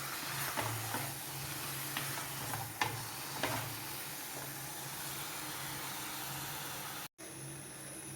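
Chicken curry masala stirred in a pan, a steady low sizzle with occasional soft spoon scrapes and taps, close and continuous, with a brief dropout near the end.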